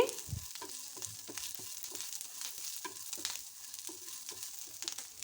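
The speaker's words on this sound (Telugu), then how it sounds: "పచ్చి కరివేపాకు ఒక గుప్పెడు వేసి కాసేపు ఫ్రై చేసుకున్న తర్వాత" Curry leaves and onion pieces fry in a pan, giving a steady, close hiss with repeated soft clicks and scrapes of stirring throughout, and no voices.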